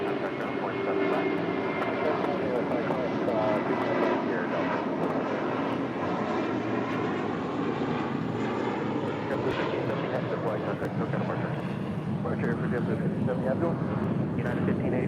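A Delta Boeing 757 taxiing across a runway at LAX, its jet engines giving a steady, fairly distant whine and rumble that holds for the whole stretch, with radio chatter from air traffic control heard over it.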